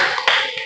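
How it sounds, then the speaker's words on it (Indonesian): Brief burst of hand clapping from a classroom of students, a short, close, fairly loud flurry of applause. "Tepuk tangan."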